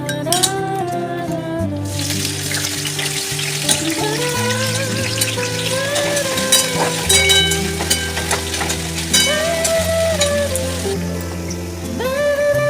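Chopped carrot and bean pieces sizzle in white oil in a wok, a steady crackling fry that carries on under music from start to finish.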